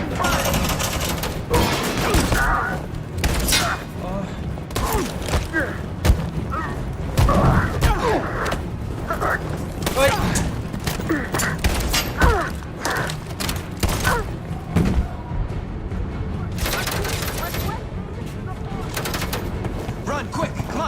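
Bursts of gunfire in the video game Detroit: Become Human, with repeated sharp volleys and rattling automatic fire spread across a busy battle scene, loud and irregular, mixed with mechanical clatter and shouted voices.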